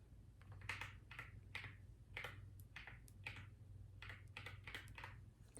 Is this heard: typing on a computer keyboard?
yes